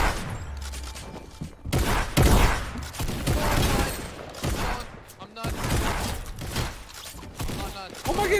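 Irregular bursts of gunfire in Fortnite, sharp shots and thumps coming in clusters at moderate loudness, with voices talking over parts of it.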